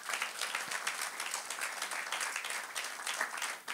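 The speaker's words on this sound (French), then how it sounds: "Acclamons très fort le Seigneur Jésus" A church congregation at a Pentecost worship service applauds, a dense, steady wash of many hands clapping that holds evenly for the whole stretch, with no voices rising above it.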